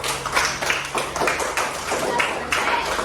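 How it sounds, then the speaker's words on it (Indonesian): A classroom of students claps hands together in a steady patter of many overlapping claps, fairly close and continuous, with faint voices beneath. "tepuk tangan buat kamu semuanya"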